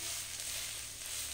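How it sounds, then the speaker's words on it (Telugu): Green chilies and mint frying in a pan while being stirred, giving a steady, even sizzle with soft hiss, close and moderately quiet throughout, with no voices. "పచ్చిమిర్చి వేగాక ఇలా పుదీనా యాడ్ చేసుకోవాలి. ఇదంతా బాగా కలుపుకోవాలి."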